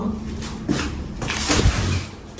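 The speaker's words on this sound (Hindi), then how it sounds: "और किसी ने जोर जोर से दरवाजा ठोका।" Heavy banging on a door at midnight in a reportedly haunted station, several loud, hard thuds spaced irregularly over a low, steady background hum.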